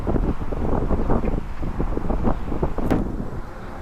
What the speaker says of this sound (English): The bridge is actually quite noisy with the cars flying past at 70 miles an hour.